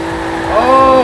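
A car engine in Forza Horizon 4 drones loudly and rises in pitch as it revs up, a sustained close roar swelling toward the end of a brief moment.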